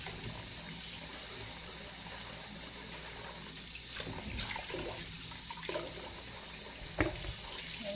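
Tap water runs steadily into a sink as fruit and vegetables are washed by hand, a continuous close splashing stream with a few brief knocks and handling sounds.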